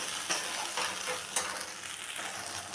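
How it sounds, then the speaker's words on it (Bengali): Spices fry in a pan over a low-to-medium gas flame while being stirred constantly for a vegetarian paneer dish. A steady close sizzle carries light, irregular scrapes of the stirring throughout. "তো মশলাটা আমি দিয়ে দিলাম দিয়ে আমি এখন এটাকে ভালো করে অনবরত নাড়তে থাকবো"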